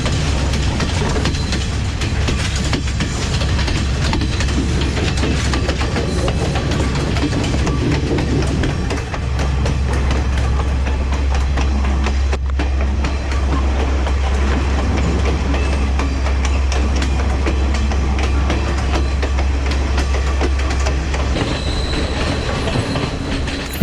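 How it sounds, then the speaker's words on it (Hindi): A train rolls steadily along the rails with a continuous low rumble, clattering wheels and occasional squeals, close and loud. "नाउ ट्रेन का म्यूज़िक सुनते हैं ज़रा।"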